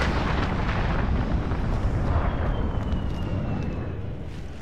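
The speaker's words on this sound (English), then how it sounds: "Enemy cruise missile." A huge cruise missile blast in Call of Duty: Modern Warfare's hardcore cyber mode in St. Petrograd, a dense roaring rumble that fills the whole clip and slowly fades toward the end.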